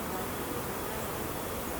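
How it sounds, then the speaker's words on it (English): Honeybees buzz at an open beehive during a varroa inspection, a steady dense hum of many insects close by, unbroken and alone with no talking. "I've got a bunch of bees here and I need my smoker."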